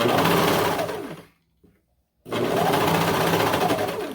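A serger sewing machine finishing a fabric seam on a leotard runs in a loud, fast, steady whir, stops briefly with a small click, then starts again and runs at full speed.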